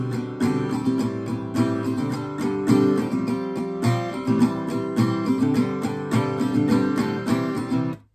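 Acoustic guitar strummed steadily through a full refrain of a song's live version, chords ringing close and full with a regular rhythm, then cut off abruptly at the end.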